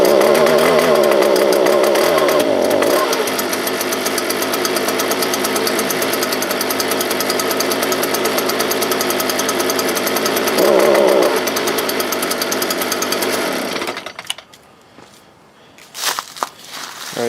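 Stihl BG86 handheld leaf blower with a newly replaced carburetor, its two-stroke engine idling loud and close with a steady buzzing rattle, briefly revving twice, then cutting out near the end.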